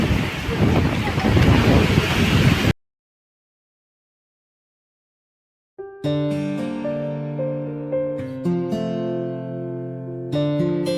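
Strong cyclone wind roars against the microphone in a loud, dense rush during Cyclone Dana in Odisha, cutting off abruptly; after a silence, unrelated music begins.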